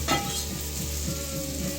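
Bacon sizzles and crackles in a pan while being stirred, a steady close frying hiss with a sharp clink at the start and no voices.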